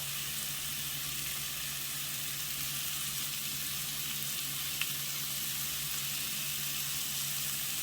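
Salted onions sizzle in a pan, a steady, even frying hiss held at constant level with no talk.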